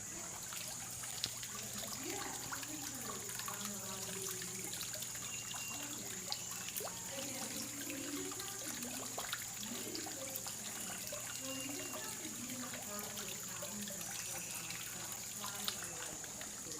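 Water trickles steadily into a conservatory pond at the Conservatory of Flowers in San Francisco, a continuous soft dribble with a faint high hum and murmured background activity.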